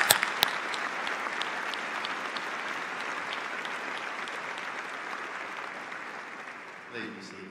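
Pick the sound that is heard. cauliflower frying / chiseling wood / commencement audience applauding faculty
commencement audience applauding faculty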